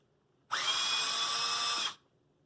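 A power drill runs in one steady, loud burst of about a second and a half, backing screws out of wood. It spins up sharply, holds an even whine, then cuts off cleanly, with no talk over it.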